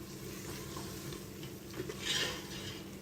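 Coriander and fennel seeds roasting in a pan for a beef pulao, with a steady soft sizzle under scraping stirs and a brief louder clatter of a utensil on the pan, fairly close.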